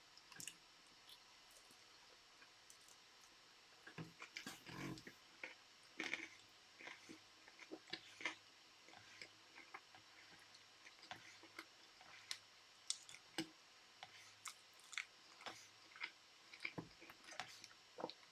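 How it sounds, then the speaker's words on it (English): Someone bites into and chews a veggie corn dog close to the microphone, producing soft, irregular wet crunches and squishy clicks against quiet background. "I am going to take a bite out of my veggie corn dog now"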